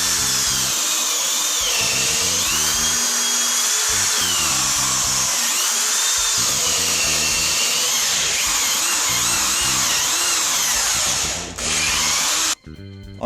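A drill boring 16mm dowel holes into the wooden base of a rocking horse, running steadily and loud for about twelve seconds with a rising and falling whine as the bit cuts, then stopping abruptly near the end.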